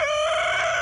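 A rooster crows in one sustained, loud, close call that fills the whole moment with a steady tonal cry and no other sounds.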